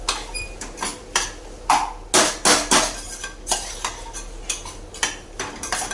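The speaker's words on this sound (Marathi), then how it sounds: "व्यवस्थित आपल्याला असं मिक्स करून घ्यायचं आहे" A spoon stirs and scrapes through chicken coated in chicken masala in a metal pot, with repeated clinks and scrapes in an uneven rhythm, close and fairly loud.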